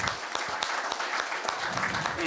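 Audience applause at an evening building-industry event in Aix-en-Provence, a lively crowd of hands clapping with sharp individual claps standing out, continuous and fairly loud.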